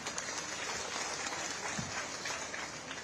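Crowd clapping to welcome the chief minister at a BJP political rally, a dense, steady wash of applause from many hands, moderately loud and sustained, with no voices over it.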